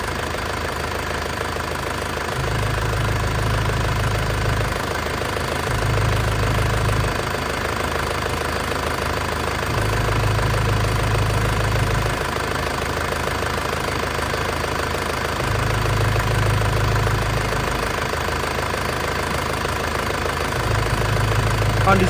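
A 1996 Isuzu Panther Grand Royale diesel engine idles at steady speed, a close continuous clattering rumble with a low throb that swells and eases in long cycles, with no voices.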